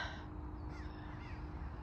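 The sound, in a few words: Canada goose calling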